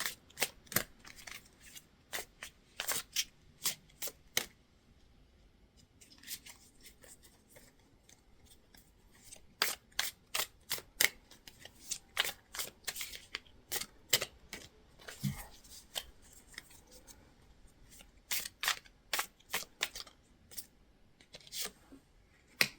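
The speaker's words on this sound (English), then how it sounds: "These cards are, looks like they're having kind of a hard time coming out." Tarot cards shuffled by hand, a long run of crisp, irregular snaps and flicks of card stock, close and fairly quiet, with brief pauses between bursts.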